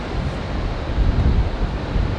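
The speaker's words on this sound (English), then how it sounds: "this morning we woke up to some even more wind" Strong wind buffets the microphone outdoors after a stormy night, a steady broadband roar with low gusty surges that swell louder partway through, with no voices.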